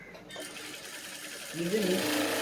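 A sewing machine stitches a lined blouse, running as a steady continuous whir that swells louder near the end, with a voice talking over it in the second half.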